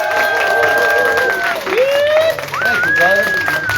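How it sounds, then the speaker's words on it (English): Applause and cheering rise from an audience at a Kangen Water business presentation, a loud crowd wash with whoops and shouted voices over the clapping. "give it a round of applause for Gio"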